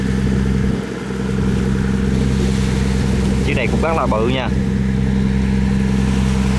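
A large vehicle's engine revs loudly as it drives through deep flood water during a storm, a steady heavy rumble running throughout, with someone speaking briefly over it partway through.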